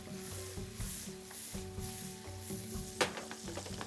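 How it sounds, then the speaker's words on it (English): Chopped vegetables and thyme leaves sauté in a hot pan with a steady sizzle and scraping stirs, close by, and a sharp clink near the end. "And I'd let this saute for about 3 or 4 minutes until the vegetables get limber"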